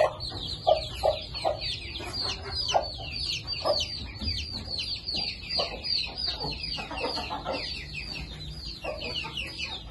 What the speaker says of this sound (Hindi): आया हूँ मुर्गों के पास